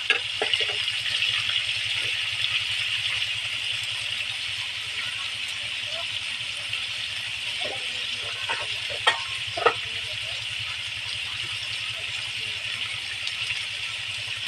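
Shrimp sautéing in a covered pan, a steady soft sizzle running throughout with a few faint clinks and rattles, while a person speaks over it.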